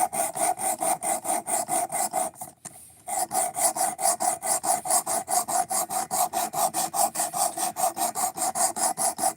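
Knife bevel being ground against an obtuse edge, a steady run of rhythmic rasping strokes, roughly three per second, close and loud with one brief pause partway through.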